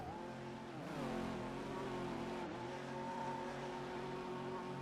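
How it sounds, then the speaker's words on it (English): The Glickenhaus race car's engine roars loudly and steadily at the 24 Hours of Le Mans, its pitch climbing and dipping as it works through the bus stop section, filling the whole moment with dense mechanical noise. "So you can hear the Glickenhaus like crazy right now."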